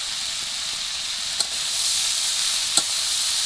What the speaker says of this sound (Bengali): এখন দিয়ে দেবো কয়েকটা কাঁচা লঙ্কা।